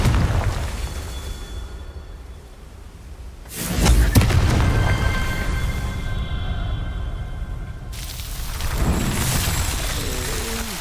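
A Confringo fire spell bursts in Hogwarts Legacy, a loud booming blast with a broad roar that swells at about four seconds and again near nine, over continuous game ambience with no talk.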